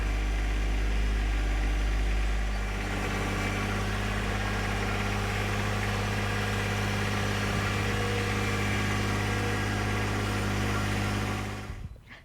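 A John Deere 1025R compact tractor engine running steadily while plowing through stony ground: a continuous loud low drone with a firm mechanical hum, holding even throughout before cutting off near the end.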